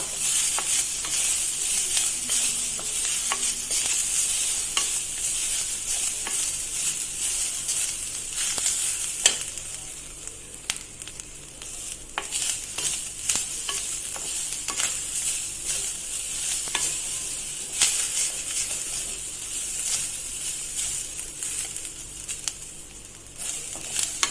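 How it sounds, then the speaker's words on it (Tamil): Grated coconut sautéed in a pan for kozhukattai gives a steady, close sizzle. Frequent scraping stirs run through it, with no talking. "நீங்கள் சாட்டே பண்ணும்போது அந்த கலர் தேங்காய் கலரும் வந்து மாதிரி உங்களுக்கு நல்ல ஒரு அரோமா கொடுக்கும்"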